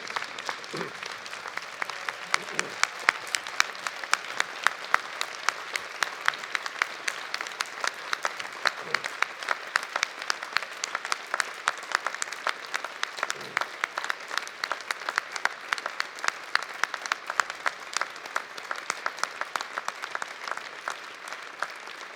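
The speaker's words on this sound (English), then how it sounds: "join everyone in giving them a big round of applause" At a University of Alberta fall convocation ceremony, a large audience keeps up sustained applause for over twenty seconds, a broad roar of clapping with sharp individual claps standing out and a few faint voices mixed in.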